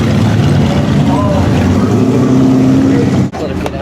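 A race car engine drones loudly and steadily, close and dominant, with a sudden brief drop near the end like a gear shift; voices talk over it.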